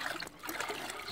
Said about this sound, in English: He loves having a bath guys, especially during summer.